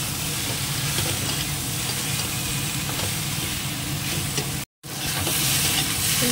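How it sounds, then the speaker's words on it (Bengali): Vegetables with taro stir-fried in a pan, a loud continuous sizzle with scraping stirring strokes, close up and without talk, broken by a brief cut near the end. "এই সবগুলো একসঙ্গে ভালো করে এবার একটু কষে নেব।"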